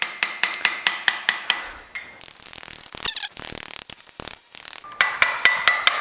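A screwdriver used as a pry bar on a car or truck wheel hub seal gives a run of sharp, evenly spaced metallic taps, then scraping and clanking, and the tapping returns at the end, close and loud.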